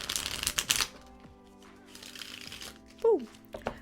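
A deck of tarot cards is shuffled in a few quick riffling bursts, close and fairly quiet, with a brief voice sound near the end.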